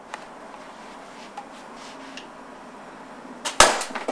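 A single sharp, close shot from a Tippmann TCR paintball marker running on CO2 cracks out near the end, after a few seconds of quiet room tone with faint ticks.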